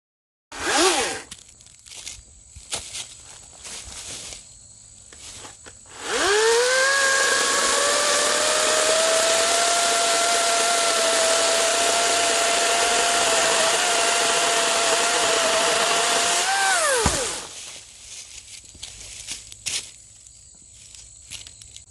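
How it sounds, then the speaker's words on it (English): An EGO 56v brushless 16-inch electric chainsaw briefly whirs, then spins up with a rising whine and cuts through a cherry tree for about eleven seconds as a loud, steady, close buzz before winding down. "We're going to cut down the rest of that cherry tree"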